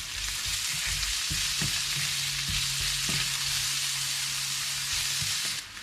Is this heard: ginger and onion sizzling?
yes